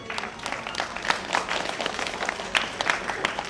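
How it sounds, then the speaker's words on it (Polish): An audience at a school year-end ceremony claps for the host, a steady burst of applause lasting the whole moment with no speech over it. "Hubert Pomykała, nasz konferansjer, brawa"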